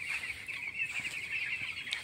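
Twelve-day-old broiler chickens in a winter-managed poultry farm keep up a dense, steady chorus of high peeping and clucking, close by and unbroken for the whole stretch.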